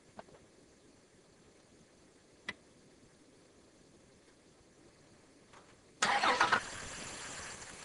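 After a few quiet ticks, a car engine cranks and catches at once, settling into a steady idle nearby.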